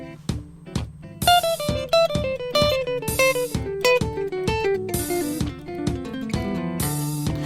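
A jazz piano line plays running triplets in descending note patterns, with every fourth triplet accented to form a polyrhythm, close and moderately loud, with no voices.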